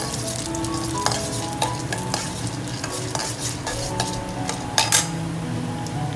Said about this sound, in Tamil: கடுகு வெடித்ததுக்கப்புறமா கடலைப்பருப்பு உளுந்தம்பருப்பு போட்டு செவக்க வறுத்துக்கோங்க